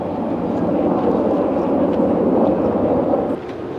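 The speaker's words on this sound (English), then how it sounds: "Damn, 3 copters." Four helicopters flying over a wildfire area in Los Angeles, heard as a loud, steady, continuous rotor and engine roar that dips slightly near the end, with no talk over it.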